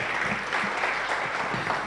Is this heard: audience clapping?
yes